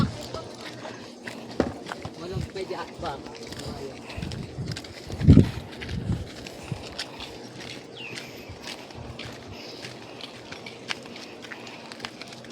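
Horse hooves clip-clopping on a trail down to the Kapurpurawan rock formation, steady irregular clops under outdoor noise while people chat nearby.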